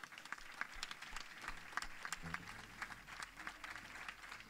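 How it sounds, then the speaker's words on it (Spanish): Faint audience applause after a jazz solo at an outdoor International Jazz Day concert in Parque Doramas, a steady spread of scattered clapping for several seconds. "Quiero un fuerte aplauso para Kervin Barreto"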